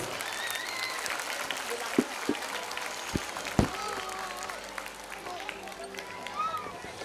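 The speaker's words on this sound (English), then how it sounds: "Parents, please give them a big round of applause." Sustained audience applause at a school annual day, a dense steady wash of clapping from a large crowd of parents with a few louder individual claps standing out, carrying on throughout.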